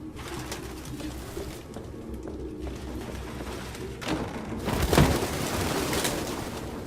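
Pigeons cooing inside a closet in the Detroit: Become Human video game, a low continuous murmur of birds with a louder burst near the end, layered over game ambience.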